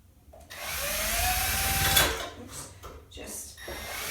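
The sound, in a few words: power drill with regular bit drilling a hole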